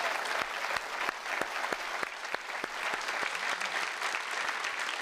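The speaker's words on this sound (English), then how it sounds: "let's give our speaker another great round of applause" Audience at a live public science talk on ocean worlds gives the speaker a round of applause: steady, dense clapping from a crowd, moderately loud and even throughout, with no speech.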